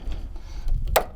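A knife slices through raw rabbit meat, a soft muffled cut followed by one sharper, brief crisp slicing sound near the end, close up and quiet.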